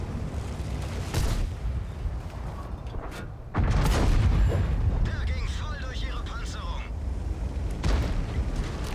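Tank cannon fire from the World of Tanks video game, with a T-54 medium tank and a Type 4 in battle: several booming blasts, one strong, loud shot near the middle followed by rumbling game noise, with someone talking over it.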